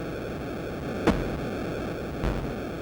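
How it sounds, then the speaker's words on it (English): Background ocean waves from the Atari 2600 game RealSports Volleyball play as a steady, loud wash of static-like hiss with two faint swells, continuous throughout with no other sounds. "it's the sounds of the ocean in the distance as the waves crash on the beach"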